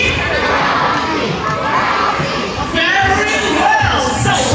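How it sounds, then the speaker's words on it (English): Boys in the audience at a bird show at Manila Ocean Park shout and cheer loudly for a bird, a dense crowd of young voices with rising yells toward the end. "Come on, boys, let me hear your cheer."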